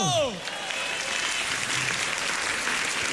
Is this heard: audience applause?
yes